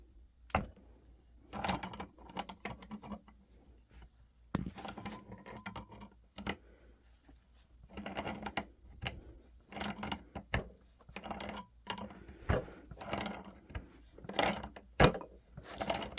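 A Pipe Vise plier driver is loosened, letting out a close, dry run of quick mechanical clicks and ratcheting ticks in irregular bursts, with brief pauses between them and no voices.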